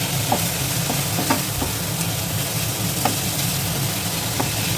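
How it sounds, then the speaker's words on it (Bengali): Spice paste for a Bengali prawn dish sizzles steadily in a hot pan while a utensil scrapes and stirs at irregular moments, close by, with no talking. "ভালোভাবে ভাজা ভাজা করে নেব"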